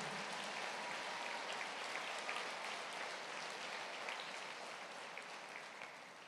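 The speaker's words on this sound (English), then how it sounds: "Let's give one more round of applause for all of our veterans in attendance" Sustained applause from an audience honoring veterans at a high school Veterans Day assembly, dense steady clapping filling the hall and tapering slightly toward the end.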